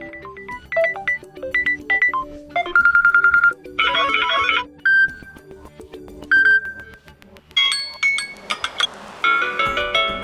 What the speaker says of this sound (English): Here you can select one of these pre-installed ringtones,